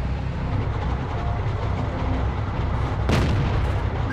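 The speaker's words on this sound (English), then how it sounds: "That shot went straight at the gun mantle of the T-25." A Type 59 tank fires its main gun at a T-25 in World of Tanks, a single heavy boom rising out of a continuous loud rumble of tank engine and tracks.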